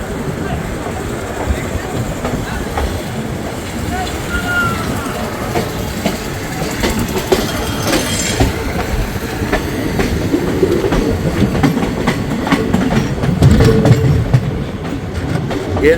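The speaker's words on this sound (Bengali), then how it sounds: "আমাদের ট্রেনের পরবর্তী হল স্টপেজ বোলপুর শান্তিনিকেতন ছাড়লো" Maa Tara Express running steadily after leaving Bolpur Shantiniketan station, a continuous rumble of rail wagons with faint clickety-clack from the wheels, heard from inside an AC chair car and growing slightly louder near the end.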